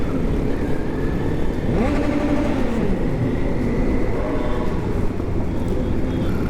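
A column of motorcycles rumbles steadily through Vilnius streets at the motorcycle season opening, a dense close engine drone with rising revs throughout.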